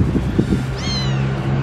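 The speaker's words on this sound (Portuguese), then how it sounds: "Barulho de gato" A cat gives a single short, close meow indoors, rising and then falling, after a few soft knocks and rustles.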